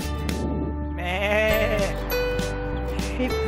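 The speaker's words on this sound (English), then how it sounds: "这里是 New Zealand， New Zealand Sheep Farm" Sheep on a New Zealand sheep farm bleat loudly and close by, several wavering calls overlapping in quick succession against outdoor farm background.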